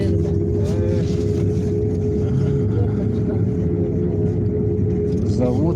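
Route 15 city bus driving in extreme cold, a steady loud engine rumble and drone inside the cabin with a constant hum, while a voice talks over it.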